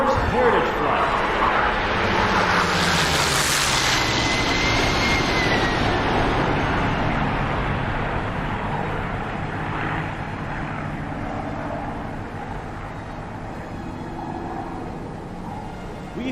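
Aircraft of the US Air Force Heritage Flight passing over in a DCS air show, a loud jet roar that swells and sweeps past, then slowly fades, with an announcer talking over it.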